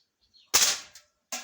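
A single sharp air rifle shot fired outdoors at a target near a mill, a crisp close crack with a brief tail, followed by a short metallic click and another faint snap.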